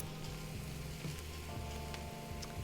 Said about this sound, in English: I'm going to just start sauteing all of this here